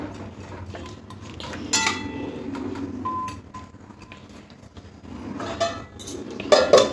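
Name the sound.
mixing vegetables in a pot and covering it with a lid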